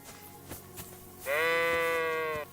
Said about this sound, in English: incorporated stock sheep sounds